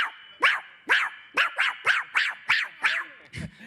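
A dog from the film Son como niños barks about nine times in a steady rhythmic run of sharp, close, loud barks, followed by a low grunt at the end.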